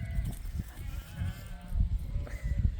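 Sheep bleat loudly and repeatedly in an open outdoor setting near a boat, several overlapping calls rising and falling over a steady background.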